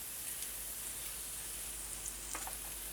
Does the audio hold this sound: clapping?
no